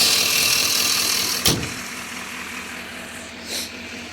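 2019 GMC Sierra 3500 Denali Duramax diesel truck idling with a steady low rumble heard close up, broken by a brief sharp knock or click and a softer bump near the end.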